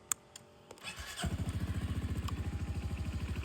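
A Honda Forza MF08 250cc scooter is started with a push of the button. The starter whirs briefly, the engine catches, and it settles into a steady, close, pulsing idle.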